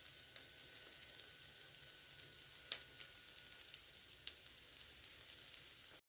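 A WW2 ration potato mash fries in a pan over medium-low heat with a soft, steady sizzle, broken by small scattered pops and crackles and no talking.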